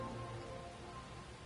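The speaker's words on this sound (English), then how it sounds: "More rain." Rain falls steadily in the video game Master Detective Archives: Rain Code, a soft, even hiss with no talking.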